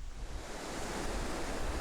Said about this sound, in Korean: 파도가 밀려와 모래를 만나는 곳에 많은 폐각들이 쌓여 있는 것을 볼 수 있다